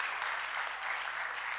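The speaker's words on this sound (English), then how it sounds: "We do an applause for our steering committee." Audience applause at the opening ceremony of AFAD 2024 in Viet Nam, honoring the steering committee; a steady, soft wash of clapping from a crowd, continuous and fairly distant, with no voices over it.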